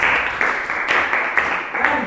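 A classroom of students giving a round of applause in a chemistry class, dense clapping at close range lasting about two seconds, with a voice mixed in.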